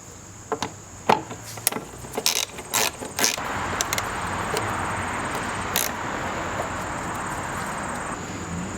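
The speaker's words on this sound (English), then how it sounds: "Remove the oil cap and remove two 10mm bolts." A ratchet works on 10mm bolts on a BMW M54 engine, giving a few sharp clicks and knocks early on, then fading into a steady hiss, close by.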